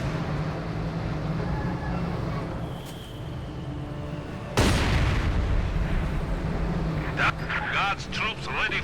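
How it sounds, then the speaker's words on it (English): Assault gun firing in the Company of Heroes 2 strategy game, a sudden loud boom from mid-clip with ongoing battlefield rumble and smaller pops, while a commentator talks throughout. "Assault gun slowly rolling in, firing and missing."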